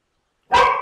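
Single dog bark outdoors, a sharp, fairly loud yelp that breaks half a second in after silence and tails off quickly.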